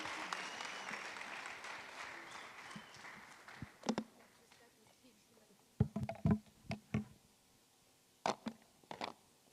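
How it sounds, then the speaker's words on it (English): Scattered applause from an audience for a speaker at a youth empowerment weekend event in Mpumalanga, fading within the first few seconds, then a few isolated claps and thuds over a quiet room. "Let's give a round of applause."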